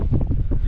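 Steady wind buffets a sailboat anchored at Anse d'Arlet in about 15 knots of breeze, a close, continuous low rumble of gusts and microphone buffeting with faint water movement underneath.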